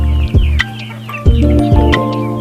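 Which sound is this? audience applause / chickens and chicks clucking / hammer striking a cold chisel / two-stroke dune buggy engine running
chickens and chicks clucking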